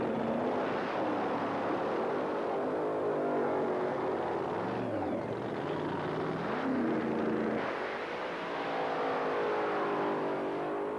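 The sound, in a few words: 1986 Datsun 300ZX drag racing car accelerating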